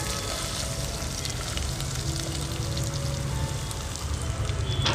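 Onion frying in a pan of hot oil for Maharashtrian misal gravy, a dense steady sizzle and crackle running continuously at an even level throughout, close and alone with no voices.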